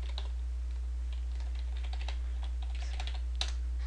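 Soft, steady clicking of a computer keyboard being typed on, quick irregular keystrokes heard close and alone over a low background hum.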